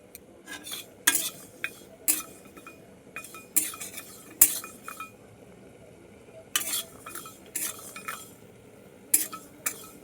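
A metal spoon scrapes and clinks against a kadai as cashews and fenugreek are stirred over a gas flame, sharp intermittent strokes over a faint sizzle with no talk.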